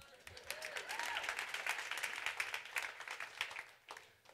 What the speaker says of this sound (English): Can we get an applause?